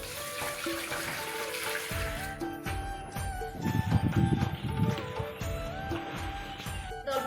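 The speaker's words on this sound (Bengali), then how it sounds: "এখন ফ্রাই করার জন্য আমি জল দিয়ে দিব" Water pours and splashes into a cooking pan on a lit stove while making traditional bichi kola pitha, a steady running stream with shifting gurgles, close and fairly quiet.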